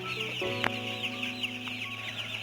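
A brood of eight-day-old chicks keeps up continuous high, shrill peeping and soft clucking up close, overlapping calls with a few sharper chirps standing out.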